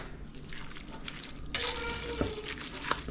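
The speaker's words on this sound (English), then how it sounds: "So this sauce is going to go over the egg noodles. And we'll give that a stir." Egg noodles being stirred into sauce in a pan, a wet sizzling swish that grows louder halfway through, with soft scrapes and taps of the utensil.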